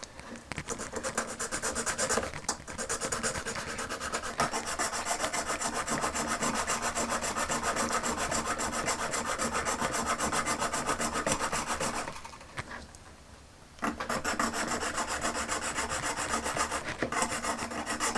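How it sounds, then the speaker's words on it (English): Steady close-up rasping of a file on a brittle plastic part from a vintage Palitoy Action Man mine detection toy, continuous strokes with a brief pause near the end before the scraping resumes. "So let's get filing."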